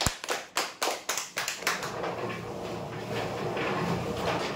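Several sharp, separate claps ring out at a prize-draw announcement, then fade into a low, steady murmur of background noise.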